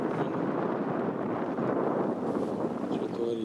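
Strong wind buffets the microphone in a steady roar while fishing on the Oka river, with waves churning the water; broadband rumble runs continuously throughout, close and loud.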